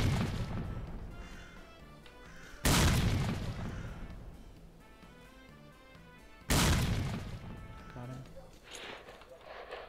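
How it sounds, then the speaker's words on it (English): Bomb explosions in the game S.T.A.L.K.E.R.: Clear Sky, with two loud booming blasts several seconds apart, each decaying into a rumbling tail amid background game sounds. "I'm just gonna bomb him."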